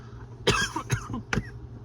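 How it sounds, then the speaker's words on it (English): Three short, sharp coughs close by, evenly spaced in quick succession. "I just cough every once in a while"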